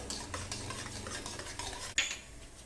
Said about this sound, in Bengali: জিরে সর্ষে ফোড়ন দেওয়ার পর একটু নাড়বো।